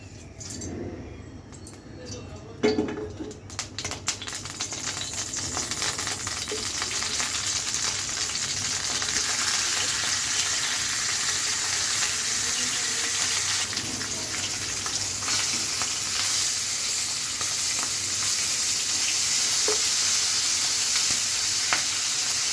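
Hilsa fish head with Malabar spinach cooking in a large 26-inch frying pan, giving a steady, loud sizzle and hiss that runs throughout, with a few clanks early on.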